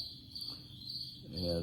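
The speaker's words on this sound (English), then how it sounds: "you can hear my pet crickets. They're chirping and chirping." Pet crickets chirping indoors, a thin steady high trill running throughout at moderate level, with a faint low rumble near the end.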